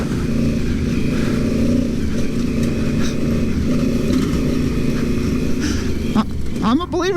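A Yamaha Super Tenere motorcycle engine drones steadily while riding off-road through the Ozark forest, loud and continuous with rough wind buffeting, and a voice briefly near the end.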